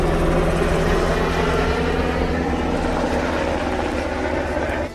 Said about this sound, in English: A helicopter flies over.